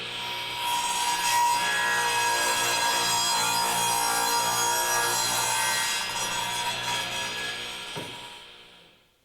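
Craftsman radial arm saw making a 45 degree crosscut through wood: a steady, loud rasping blade whine holds for several seconds, then fades as the saw spins down, with no talking over it.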